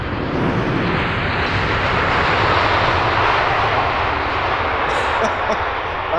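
A jet aircraft passes at Heathrow Airport at night, a loud, broad roar sustained throughout the clip.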